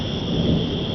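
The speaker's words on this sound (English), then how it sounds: "A lot of thunder too." Continuous rumbling thunder rolls through a severe storm, loud and steady with heavy rain hiss layered over it and no voices.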